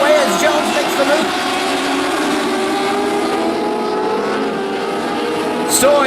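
Dwarf race cars on a dirt oval give off a loud, continuous roar of several engines at once. Pitch rises and falls as the pack runs close together.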